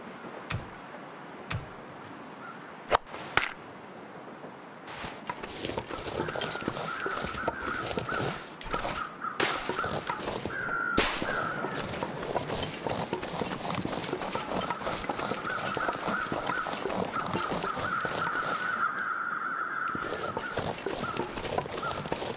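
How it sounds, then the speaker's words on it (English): Crows caw around a deer in a campground in the video game The Long Dark, with a steady stream of harsh calls and a sharp, crisp clicking beneath them. "those guys are the crows that are around the deer in the campground"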